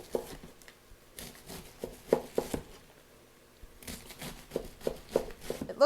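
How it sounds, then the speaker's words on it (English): A knife cuts half a cabbage into chunks on a board, with irregular bursts of quiet thuds and crunching separated by brief pauses, close and fairly soft. "So now I'm just going to take my cabbage and cut it up into chunks"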